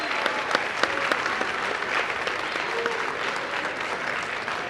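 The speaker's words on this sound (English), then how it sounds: "I want to give you a round of applause because you did a great job today." A high school audience, including students, applauds during an official presidential visit with a steady wash of many hands clapping throughout. A few sharper individual claps stand out against the crowd.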